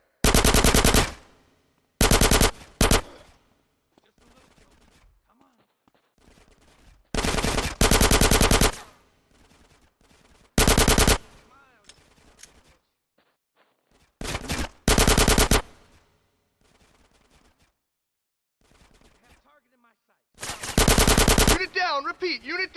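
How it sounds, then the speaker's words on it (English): Automatic machine gun fire in a combat scene from GTA San Andreas Definitive Edition, heard as loud rapid bursts repeating several times with quieter gaps of shouting and ambient game noise between. "Get some suppressing fire in there!"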